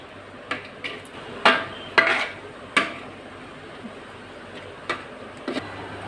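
Metal pot lid lifted off a steaming pot of beef biryani, with a few sharp clanks and scrapes of metal against metal, close and clear, spaced over several seconds in a quiet kitchen.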